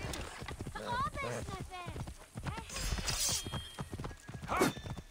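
Rhythmic hoofbeats of a horse in the video game Assassin's Creed Origins clip-clop at a quick pace under a man's speech, with an occasional horse snort or whinny mixed in.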